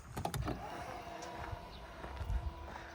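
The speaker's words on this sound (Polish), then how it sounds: "Jak większość Volvo z Ameryki, y, jest tutaj elektryczna klapa" A power tailgate on an American-market Volvo car moves, giving a low motor whir with a few clunks and latch knocks, heard fairly faintly at close range.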